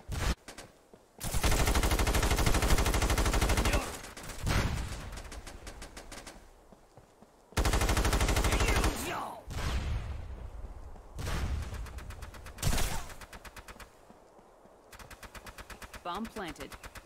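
Automatic gunfire in the online shooter SOCOM Confrontation, several loud sustained bursts separated by short gaps, with quieter shots and a voice talking in between.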